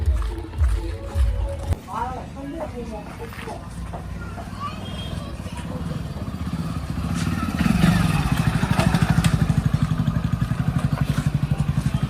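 A new bike's motorcycle engine idles and then revs into a steady, rapid, pulsing putter, growing louder toward the end beneath ongoing conversation between people nearby.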